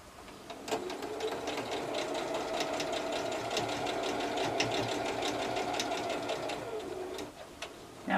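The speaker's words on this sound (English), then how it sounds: "I'll actually sew a few pieces to it" A sewing machine stitching small fabric pieces together for a mosaic quilt block, running in one steady rapid clatter of needle strokes for several seconds before slowing and stopping, close and fairly quiet with no talk.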